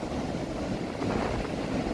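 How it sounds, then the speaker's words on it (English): Steady roar of Pacific Ocean surf at night on a Pacifica beach near San Francisco, mixed with gusting wind buffeting the microphone, continuous and fairly loud with no voices. "I can hear the ocean very nicely, and like, well, it's still windy here"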